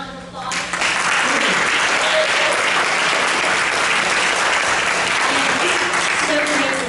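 Applause from the audience at a positive aging seminar, a dense, even clatter of many hands rising quickly at the start and holding steady at full strength, close and loud throughout.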